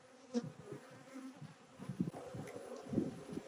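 Honey bees buzz close by at an open beehive in Florida, a soft, continuous drone with uneven swells as individual bees pass near.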